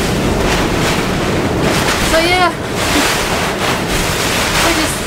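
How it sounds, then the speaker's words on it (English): Horizontal rain and gusting wind batter a sailboat during tropical cyclone Debbie, a constant roaring wash of wind noise and spray that stays loud throughout while someone speaks briefly. "now it's just all grey and the rain is horizontal and it hurts"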